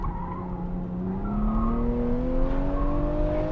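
A Toyota GR Supra engine revs hard at an autocross event, its pitch climbing steadily as the car runs to the top of its gear, loud and continuous, with faint tire noise underneath.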